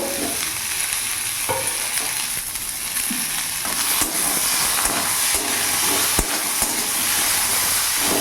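Onion and chopped tomato frying in a pan over a medium gas flame, a steady sizzle and hiss with occasional scraping stirs and light clicks of the spatula against the pan.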